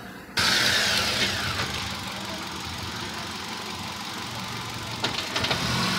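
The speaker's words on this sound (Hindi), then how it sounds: "देख रहे हैं उठाने पे आवाज़ आ रही है गाड़ी में" A Hyundai i20 Sportz engine with a vibration and tapping fault runs steadily as it is revved, a close, continuous mechanical drone with a brief bump in level near the end and no talking.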